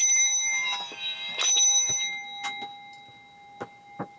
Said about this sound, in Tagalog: Set up natin saglit yung bell.